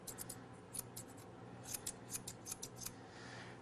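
Close, quiet snips of grooming scissors cutting a standard poodle's ear hair, coming in quick irregular clusters of small crisp clicks.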